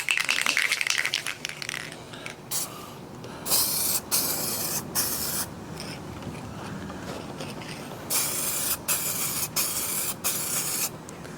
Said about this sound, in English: So we're going to go ahead and give this another spray.